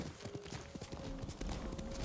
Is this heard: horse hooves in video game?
yes